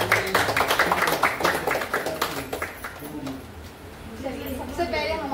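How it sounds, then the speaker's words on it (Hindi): Audience at an IMC business weekly meeting in Kalwa claps in a burst of dense, rapid hand claps, strongest at first and thinning out, with a voice starting to speak over the tail end. "जोरदार तालियों से"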